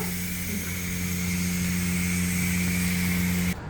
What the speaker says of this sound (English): the 2J racing intake, which is the loudest cold air intake I've ever heard